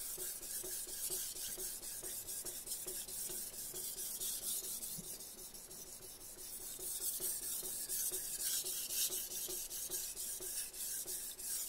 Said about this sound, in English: let me just create a burr here